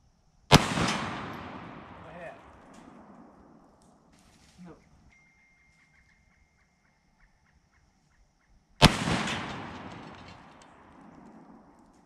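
Two loud gunshots fired at a barbell plate, the first near the start and the second about eight seconds later, each a sharp blast trailing into a long decaying echo outdoors, with a faint metallic clink between them.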